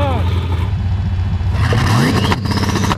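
A revving turbocharged go-kart engine on two-step launch control crackles and pops loudly in bursts, with people talking and reacting over the rumble.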